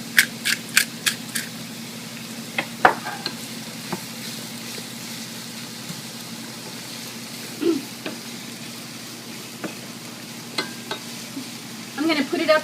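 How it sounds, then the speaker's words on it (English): Vegetables sautéing in a pan for Cuban meatballs (albóndigas), with a low steady sizzle broken by scattered clinks and scrapes of stirring, close up and fairly quiet, with no talking. "I'm going to put it up to about a 6 right now and just let the vegetables get translucent"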